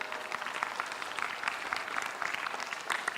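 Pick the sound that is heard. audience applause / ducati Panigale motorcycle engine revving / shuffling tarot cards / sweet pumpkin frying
audience applause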